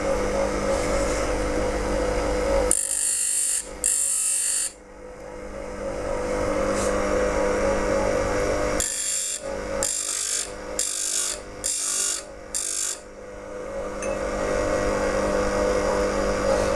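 A grinding wheel spins steadily while the corner of the wheel thins the blade of a woodcarver's skew chisel. Steel touches the wheel in a series of close, scraping contacts that come in repeated short passes over the constant motor whine.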